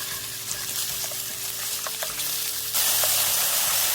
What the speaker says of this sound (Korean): 준비된 그릇에 참기름 한 큰술, 마늘 한 큰술, 소고기를 넣고 소고기가 약간 익을 때까지 달달 볶아줍니다